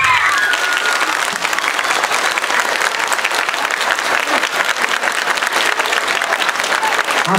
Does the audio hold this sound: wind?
no